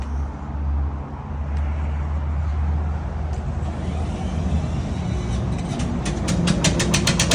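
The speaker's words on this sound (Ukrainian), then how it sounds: "Це наш шифенчик 240 без глушителя так газує." A Shifeng 240 tractor engine running without a muffler, a loud, rough, continuous low rumble heard up close, with a rhythmic clatter rising near the end as it revs.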